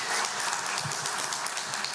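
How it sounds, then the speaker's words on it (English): Audience applause for candidates at a South Arkansas candidate debate, a steady dense wash of clapping filling the whole stretch at moderate level. "One more round of applause for our candidates"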